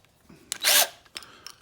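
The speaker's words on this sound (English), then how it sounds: "Got my drill gun" A cordless Harbor Freight drill whirs in one short, loud burst, used on motorcycle fairings, with faint clicks before and after in a quiet room.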